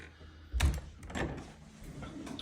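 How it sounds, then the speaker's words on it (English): A door opening indoors during an art open house, with a close, dull thud followed by a softer knock and faint creaking in a quiet room. "there's the door"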